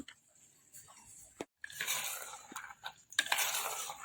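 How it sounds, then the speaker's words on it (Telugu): Butter balls and cardamom powder being stirred into sugar syrup in a pot, giving soft scraping and clinking strokes in short bursts, close and quiet, with a brief gap midway. "ఈ పంచదార పాకంలో వేసుకున్న వెన్న ముద్దలన్నీ బాగా కలిసేటట్టు యాలకుల పొడి కూడా కలిసేటట్టు బాగా కలుపుకోవాలి"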